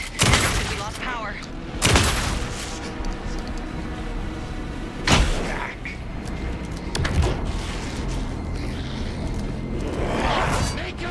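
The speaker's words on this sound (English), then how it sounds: "Anderson, pin him down with gunfire for me to get the light on." Gunfire in the video game Alan Wake 2, with several loud bursts of shots scattered through a dense, noisy in-game battle while characters talk over the action.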